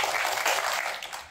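Short burst of audience applause at a talk, a dense wash of many hands clapping that fades slightly toward the end.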